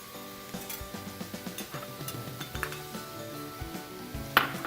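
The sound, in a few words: onions, garlic and mushrooms cooking in pan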